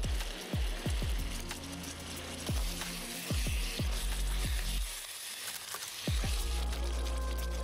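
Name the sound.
poppy seed paste added to prawn curry, sizzling in the pan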